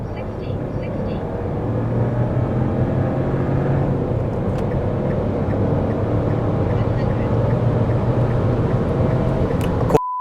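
A Dacia Duster Hybrid-G 150 hp running on LPG accelerates steadily to overtake a truck, its engine drone rising under road noise with the air conditioning on, loud and continuous throughout.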